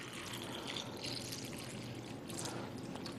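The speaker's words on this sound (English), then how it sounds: "we're just going to simulate that by pouring some tap water in here" Tap water poured into a container, a steady broadband splash and trickle that runs continuously and fairly close at low level for the whole stretch.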